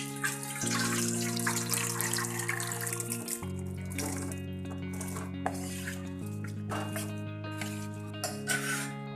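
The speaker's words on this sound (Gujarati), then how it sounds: "હવે આપણે એક મોટું તપેલું લઈશું તેમાં આપણે પાણી સાથે જ સાબુદાણા નાખીશું" Water and sago pearls pour into a large pot, a steady splashing stream with shifting tone as the pot fills, plus a faint clink of the vessel, no voices.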